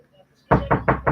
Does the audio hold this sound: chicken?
no